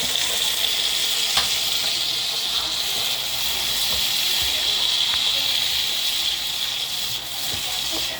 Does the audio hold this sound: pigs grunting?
no